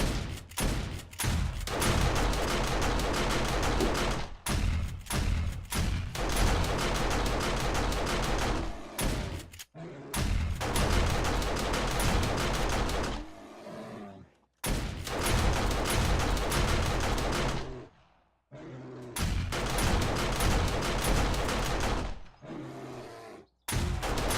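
Auto turret and shotgun turret firing at a zombie bear in 7 Days to Die: loud, dense bursts of rapid gunfire broken by short gaps, with heavy blasts and occasional growls and roars.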